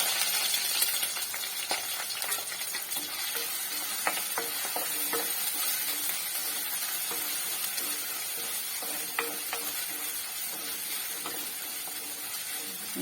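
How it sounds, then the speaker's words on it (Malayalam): Ginger, garlic, shallots and green chillies sizzle steadily in hot oil with popped mustard seeds as the base for an avoli fish curry, with a constant frying hiss and light stirring taps throughout, no talking. "ഇനി നമുക്ക് ഇഞ്ചിയും വെളുത്തുള്ളിയും ചുവന്നുള്ളിയും പച്ചമുളകും കൂടെ അങ്ങോട്ടിടാം."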